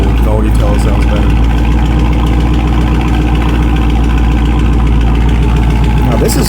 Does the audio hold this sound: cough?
no